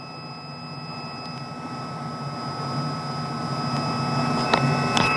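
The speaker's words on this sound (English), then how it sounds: "we've got fixed-wing traffic that's just backtracking down the runway, so we'll wait for them to go past us" A fixed-wing airplane taxiing (backtracking) along the runway at Elstree airfield, heard as a steady, rising engine drone with tonal whine, moderately loud and growing nearer over several seconds, with no voices.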